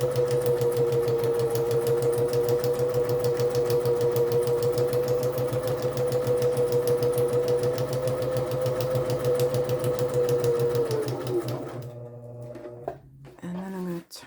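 A sewing machine stitches straight down through a book page, running steadily and loud for about eleven seconds before slowing and stopping, with a few brief clicks at the end.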